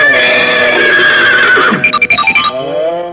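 A horse gives a loud, close whinny that rises and then breaks into a trembling, fluttering neigh before trailing off.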